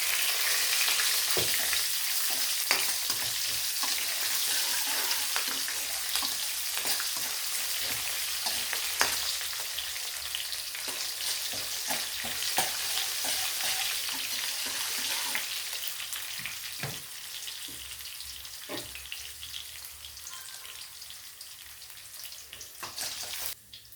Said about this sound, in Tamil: இப்போ வெங்காயம் மிளகா சேர்த்துக்கலாம்